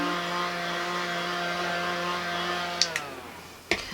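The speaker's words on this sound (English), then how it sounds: "blast it with my fan." A small fan blowing air to dry foundation on a face gives a close, steady humming whir that winds down near the end, followed by a couple of light clicks.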